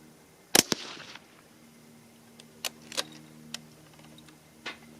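.17 Hornet rifle fired outdoors at a target: one sharp, loud report rings out early, followed by several faint metallic clicks and ticks spaced apart.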